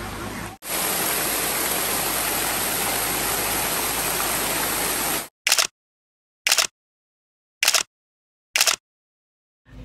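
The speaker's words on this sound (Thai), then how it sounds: "ทางเดินไปน้ำตก" A waterfall in Uthai Thani province rushes as a steady, dense roar for several seconds, then returns in a few short, abrupt bursts separated by silence.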